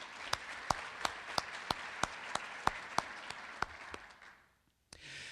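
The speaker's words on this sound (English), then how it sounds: "Round of applause for our sponsors today" Applause from a Township luncheon audience for the day's sponsors, with a few sharp, evenly spaced claps standing out over a softer patter. It thins out and stops after about four seconds.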